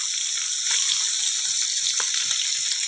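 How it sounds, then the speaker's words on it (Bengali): Fish fries in a pan with a continuous, close, crackling sizzle and a bright hiss, with no talking. "দেখো এখানে মাছ ভাজা হচ্ছে"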